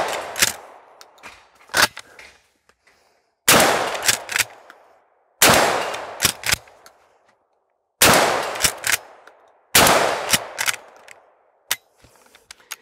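A Mossberg 500 pump-action shotgun fires five loud, sharp blasts about two seconds apart. Each shot rings out with a short echoing tail, and fainter clacks in between suggest the action being racked.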